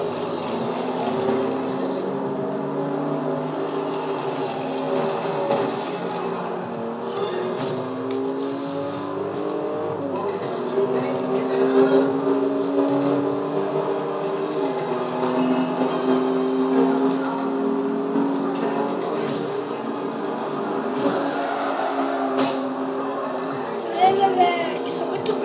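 A racing car engine in the Forza Horizon 2 video game hums and revs steadily for the whole stretch, its pitch rising and falling as it accelerates, with a voice talking over it at times.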